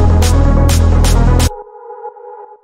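A loud buzzy synth chord with rhythmic bright random filter sweeps pulsing four times, then cutting to a thin sustained tone that fades.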